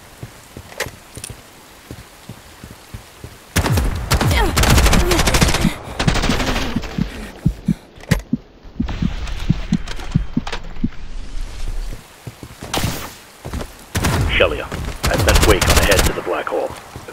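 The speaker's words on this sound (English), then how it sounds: "But this barrage is too dangerous." Heavy gunfire barrage in the video game Bright Memory Infinite, with loud bursts of rapid automatic shots coming in waves and separated by short lulls.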